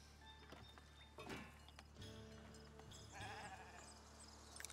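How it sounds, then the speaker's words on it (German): Sheep bleating in the farming video game Schäfer Willi, a few soft bleats over a steady low ambient game background with faint clip-clop like sounds, no talk. "Da ist ein kleines Schaf."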